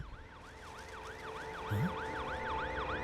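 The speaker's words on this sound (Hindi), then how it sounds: "यहाँ पर एम्बुलेंस आ गई है।" Wailing ambulance siren with a steady rising-and-falling sweep, close and loud over a constant low traffic rumble, with no voices.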